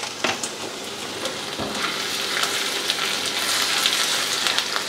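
Grated ginger and asafoetida fry in oil over a low gas flame, giving a steady, close, continuous sizzle with faint crackles throughout.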